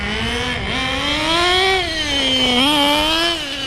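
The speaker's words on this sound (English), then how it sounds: "Engine spools up, but I can tell the exhaust is highly restricted" An HPI Nitro RS4 vintage nitro RC car engine with a highly restricted exhaust spooling up, a buzzing, harmonic-rich whine that rises and dips twice as the small car runs close by.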